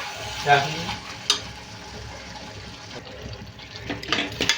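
A spoon stirs thick, wet tomato curry in a pan, with soft scraping and gentle sizzling at a quiet, steady level.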